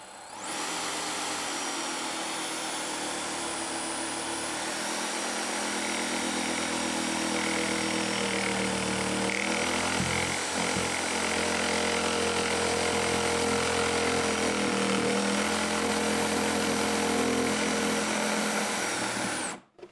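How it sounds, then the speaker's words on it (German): A jigsaw plunge-cutting into a panel while building a laser engraver enclosure: a steady, loud, high-pitched motor whine and blade buzz running continuously for about twenty seconds, then cutting off abruptly at the end. "Und so kann man auch mit der Stichsäge eintauchen."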